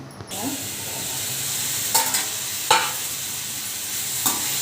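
Tomatoes, an onion and garlic cloves cooking in a pan for an okra chutney: a soft continuous sizzle with a few sharp clinks and scrapes of a utensil against the pan, no speech.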